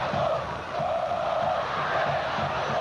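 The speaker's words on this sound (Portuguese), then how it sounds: "E a torcida protesta." Corinthians football supporters protest in the stands during a 2004 Brazilian league match, a dense, distant crowd roar with rhythmic chanting swells rolling on throughout.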